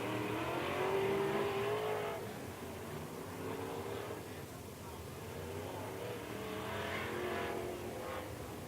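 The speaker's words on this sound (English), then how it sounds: "B Modifieds on the racetrack for their first heat race" B Modified race cars rev and rumble at a dirt oval raceway at the start of an evening heat race, a dense, steady roar of several engines heard from a distance with a voice talking over it.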